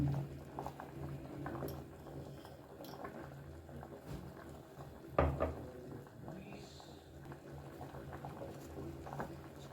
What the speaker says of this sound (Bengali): এই অবস্থাতেই এটাকে আমি আরও কিছুক্ষণ ফুটতে দেব